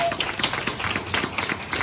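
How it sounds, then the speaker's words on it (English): Audience at a breakfast event on running events in a pandemic applauds the panel, a steady, even patter of many hands clapping at moderate level for nearly two seconds with no pause. "can everyone give a round of applause to our wonderful panel?"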